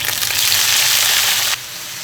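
Lamb offal is dropped into a wok of hot oil, with ginger slices and Sichuan peppercorns, to fry for a hotpot base, giving a loud close burst of hissing sizzle that cuts off sharply near the end.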